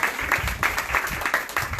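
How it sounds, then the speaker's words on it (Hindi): A church congregation at a sermon breaks into short bursts of hearty clapping, rhythmic and fairly close, with a faint voice mixed in. "यीशु मसीह के जलाल के लिए जोरदार तालियां"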